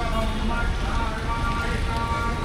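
Steady rain falls on surfaces at a parking area, a dense, continuous hiss that stays even and close throughout with no talking.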